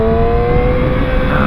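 A Yamaha R9 motorcycle engine revs loud and close in a brief, sustained high-pitched roar with no voices.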